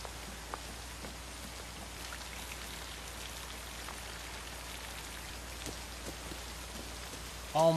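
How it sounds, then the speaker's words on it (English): Steady heavy rainfall in a 1960 Psycho scene, a dense continuous hiss of drops at moderate level throughout, with a brief louder sound at the very end. "Sorry, I didn't hear you in all this rain."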